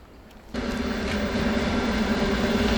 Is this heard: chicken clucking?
no